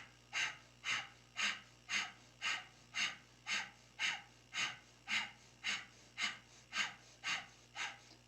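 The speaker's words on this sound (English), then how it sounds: "and then begin breath of fire" Rapid, rhythmic kundalini yoga breath of fire: sharp, even exhalations roughly every half second, close and fairly quiet, continuing steadily with no talking.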